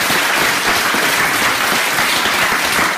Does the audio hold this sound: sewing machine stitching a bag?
no